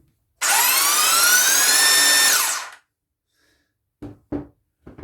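A Bosch GBH18V-34 SDS-Max cordless rotary hammer drill runs alone in one loud burst of about two seconds, its whine rising in pitch as it ramps up from a soft start, then winds down, followed by a few short handling knocks.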